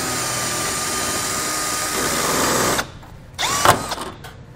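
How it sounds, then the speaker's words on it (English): A power drill with a 1/8 inch bit drills out rivets holding a 2015 vehicle's front fascia, whining steadily and loudly for a few seconds, then stopping before one short final burst. "You'll want to use a 1/8 inch drill bit to drill those out."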